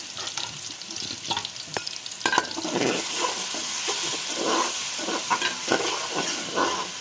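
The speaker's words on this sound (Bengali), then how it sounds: "এগুলো আমি ভালো করে মিক্স করে নিব" Onion, ginger and garlic fry in hot oil with spices while a spoon stirs them, giving a steady close sizzle with irregular scraping strokes throughout.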